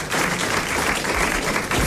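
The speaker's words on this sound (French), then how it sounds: "Vous l'applaudissez" A radio studio audience claps warmly for a prize winner, a dense, even burst of applause that starts abruptly and holds steady for a couple of seconds.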